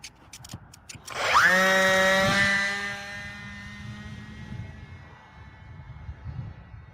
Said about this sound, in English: It's amazing how those little planes fly, man.